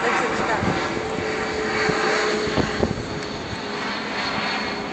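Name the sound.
airplane flying overhead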